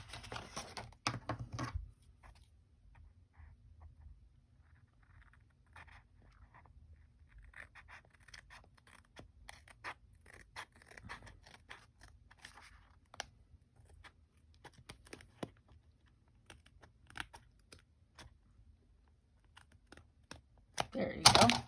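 Scissors trimming paper on an altered mini composition notebook make sparse, quiet snips and clicks scattered across a mostly hushed stretch, with a louder flurry of cutting at the start and the end.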